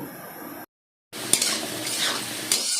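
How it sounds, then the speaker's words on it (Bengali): Diced potatoes frying in oil until browned, a brief sizzle, a moment of silence, then a bright, steady frying hiss with a couple of spatula clinks against the pan. "দেখো আলুটা লাল করে ভেজে নিয়ে তুলে নিচ্ছি।"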